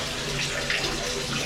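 Water runs steadily and loudly from a tap in a small bathroom, a constant close splashing rush with no talking.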